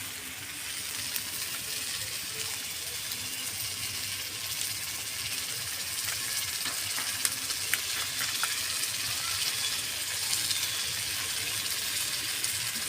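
Fried rice sizzling steadily in a hot pan as garam masala powder goes in, a continuous close hiss of frying with faint scraping and stirring clicks scattered through it, no voices.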